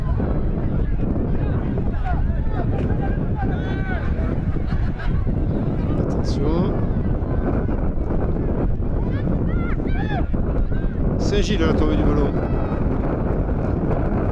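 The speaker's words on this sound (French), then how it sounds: "Et ce vent qui souffle, il est très très fort." Strong wind buffets the microphone at an outdoor amateur football match between St Gilles and St Jean du Gres, making a constant heavy low rumble beneath a commentator's talk, with occasional faint honking in the background.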